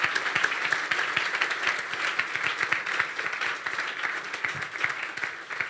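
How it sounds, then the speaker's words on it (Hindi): Vigorous applause from a church congregation during a sermon service, many hands clapping in a steady, dense patter that holds for several seconds, fairly close and lively. "यीशु के जलाल के लिए और उसके कलाम के लिए जोरदार तालियां बजा दें"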